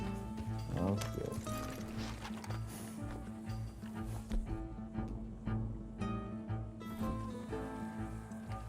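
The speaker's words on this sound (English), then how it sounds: "Oh my god, that's a real lion." A lion roars in Red Dead Redemption 2 over layered game music and ambience, with a few deep, rumbling growling bursts rising and falling amid the steady background mix.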